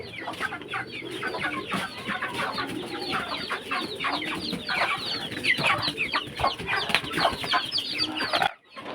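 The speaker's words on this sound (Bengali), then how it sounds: "পিচ্ছি মুরগির বাচ্চা দেখেন এটাই কয়দিন ফুটছে" Chickens and young chicks cluck and chatter continuously in a busy, close village flock, overlapping short calls filling the air before a sudden brief quiet near the end.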